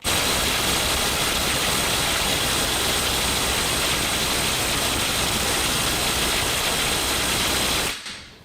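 DeWalt DCF850 Atomic 20V impact driver hammers on a fastener without turning it, a loud, dense, continuous rattling burst of rapid impacts lasting about eight seconds before cutting off abruptly.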